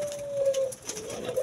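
A caged puter (collared dove) gives a soft, rolling coo close by, with faint background rustle and chatter.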